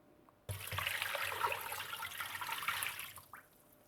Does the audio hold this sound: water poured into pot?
yes